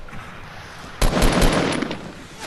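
Enemy players in Fortnite open fire in a sudden burst of rapid shots that erupts after a quiet second. The volley is loud and close, then fades into a rattling tail.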